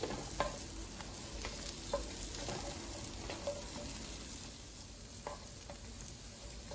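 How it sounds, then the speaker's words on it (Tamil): Soft, steady sizzling of nuts dry-roasting in a pan on low heat, with occasional light scrapes and stirring clicks, close by and continuous. "சும்மா 2 நிமிஷம் வறுத்தா போதும்"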